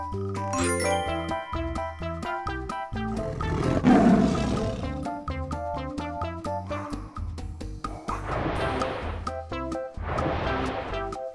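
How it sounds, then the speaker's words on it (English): A tiger roars in several loud, rough bursts set against a steady tinkling, chiming musical backing that plays throughout. "Tiger."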